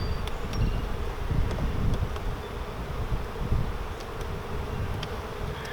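A dense, continuous buzzing of many honey bees in a nucleus hive during an inspection, close and fairly loud, with no talking.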